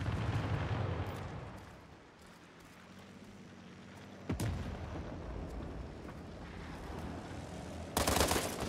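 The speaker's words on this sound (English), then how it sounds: "Enemy airstrike." Enemy airstrike explosions in the World War 3 video game: a steady rumble of distant blasts, then a sharp nearby detonation midway and another loud, broadband burst near the end.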